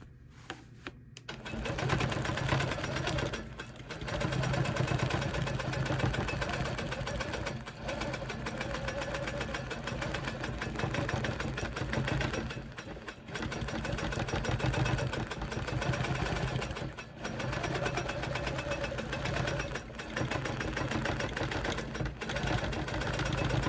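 A longarm quilting sewing machine stitches appliqué in a dense, continuous mechanical whir and rapid needle chatter, pausing briefly a few times before resuming, loud and close with no talking.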